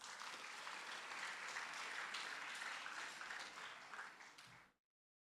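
An audience gives a round of applause at the Grade 12 National Senior Certificate exam results release, a dense, steady wash of many clapping hands that carries on for several seconds, then fades out quickly and ends in silence.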